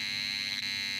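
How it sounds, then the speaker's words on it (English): A remote control alarm clock sounds its alarm: a steady, high electronic buzzing tone that holds constant with no pauses, moderately loud and alone. "When pressed, the alarm will go off."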